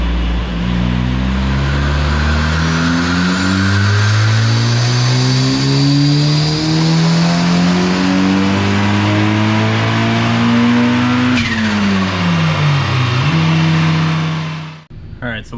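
A turbocharged Mazda Miata engine roars loudly through a dyno pull, climbing steadily in pitch through the revs before a sharp drop and brief dip as it lets off, close and continuous.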